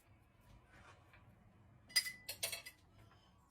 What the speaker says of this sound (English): while I put my mixer together